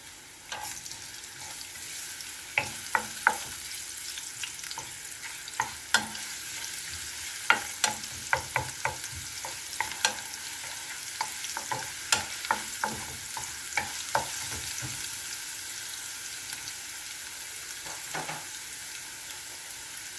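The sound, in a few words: garlic frying in pan until brown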